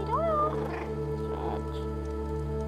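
A cat meows in the video game Stray: a rising, wavering meow near the start, then softer cat sounds, all over a steady droning game soundscape.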